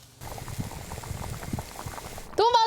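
A pot of lamb tripe and mutton simmers at a steady boil, soft bubbling and popping close by, ending with a brief sharp squeak-like sound.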